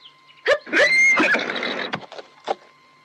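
A horse neighs loudly in a long, shrill whinny preceded by a short snort, followed by a few softer huffs and faint hoof sounds, close and unaccompanied by talk, used as an audio drama effect.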